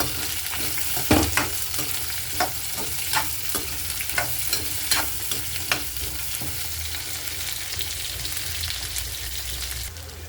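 Onions sauté in a pan for tomato peanut chutney, a steady sizzle broken by regular scraping strokes of a spatula, moderately loud and close, with no voices.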